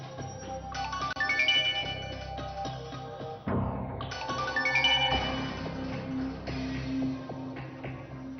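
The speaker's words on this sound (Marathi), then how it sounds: "आणि तो फोन वाजतो तो घे ना." A phone rings with a melodic, tinkling ringtone that plays in repeating phrases, stops briefly, then starts again, fairly loud and uninterrupted by talk.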